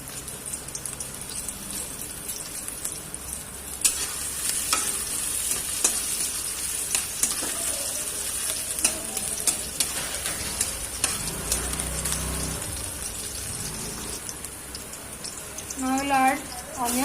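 Chopped ginger and green chilies stir-fried in a wok for vegetable spring rolls, with soft steady sizzling, scraping and stirring throughout, and a voice speaking briefly near the end.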